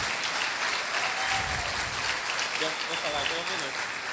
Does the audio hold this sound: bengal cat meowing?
no